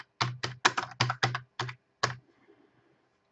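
Quick bursts of keystrokes on a computer keyboard, about a dozen crisp clicks in uneven clusters, then stopping into near silence.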